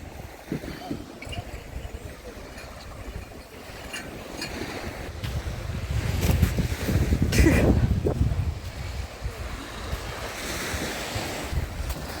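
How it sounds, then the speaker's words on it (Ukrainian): Surf washes onto a beach in Odesa, Arkadia, with rolling waves building and fading over steady wind noise on the microphone, loudest in the middle. "Пляж біля редлайна."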